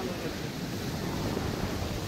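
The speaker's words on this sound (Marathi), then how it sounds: "लाटा भरपूर आहेत, बघू शकता तुम्ही." Sea waves and surf on the Konkan coast make a steady, broadband wash that rolls on without pause for about two seconds, fairly faint and with no clear breaks between breakers.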